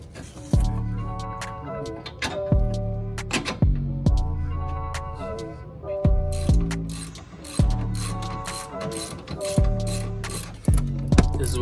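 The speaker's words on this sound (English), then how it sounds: "Pass-through socket set for the Allen key, the special tool" A hand ratchet with a pass-through socket set and Allen key clicks in quick bursts while installing D2 Racing coilovers on a 2014–15 Honda Civic, about six close, loud runs of rapid pawl clicks separated by brief pauses.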